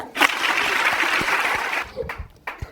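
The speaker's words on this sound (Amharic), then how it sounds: "5 ሞቅ ያለ ጭብጨባ።" Warm applause from an audience, a dense steady clapping that fills nearly two seconds before thinning into a few scattered claps, with faint voices underneath.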